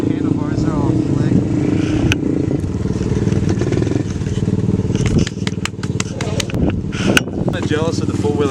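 A dirt bike engine drones and revs steadily while it is ridden on slippery dirt, with crackles and clatter from the ground, and a rider talks over it.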